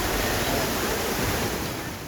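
Floodwaters of the swollen Tapi river surge in Surat, Gujarat, a steady, dense roar of rushing water that holds loud and unbroken throughout with no voices.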